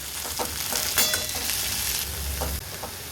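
Dill leaves sauté with onion and garlic in a pan, giving a steady sizzle with repeated stirring scrapes and a brief louder clatter near the middle.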